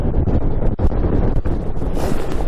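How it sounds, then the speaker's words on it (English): Strong, cold wind on the summit of Great Dodd in the Lake District buffets the microphone in loud, uneven rumbling gusts, with a few sharp dips and bursts of blustery noise. "Just too windy"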